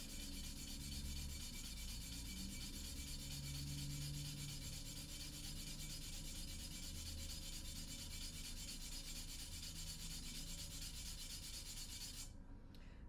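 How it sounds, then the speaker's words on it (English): A reed's back is sanded by hand on a flat surface, a steady close rasping rub that continues throughout with no speech. "if you use even pressure across the entire top of the reed, it should sand it evenly"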